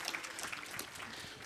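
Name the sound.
audience applause after a reading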